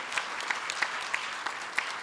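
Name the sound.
audience applause for Radhika madam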